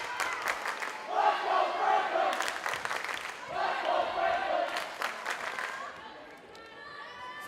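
Franklin's student section roars for its team at a varsity volleyball match against Attleboro: sustained loud crowd shouting and cheering in two big swells, easing off toward the end.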